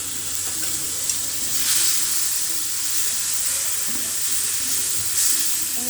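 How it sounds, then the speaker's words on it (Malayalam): Ground tomato paste sizzling and being stirred in a frying pan while cooking paneer butter masala, a loud continuous hiss and crackle with occasional scraping stirs, close up and without talk. "ആ സമയം നമ്മൾ അരച്ച് വെച്ചിരിക്കുന്ന ടൊമാറ്റോ കൂടി ആഡ് ചെയ്യാം."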